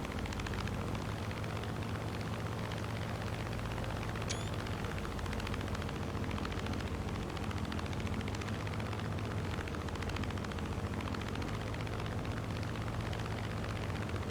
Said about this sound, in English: I love the sound of that plane.